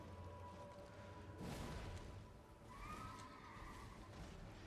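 A magic horse in a fantasy video game whinnies and snorts, a quiet, close neigh with faint hoof clops and a soft swoosh, no talking over it.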